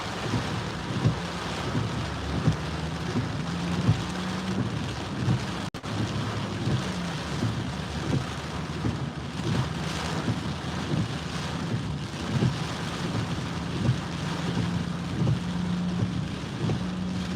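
Hurricane Ian rain and wind in Fort Myers, a steady dense roar of downpour with gusting wind and low rumbles running throughout, close and continuous with no talking.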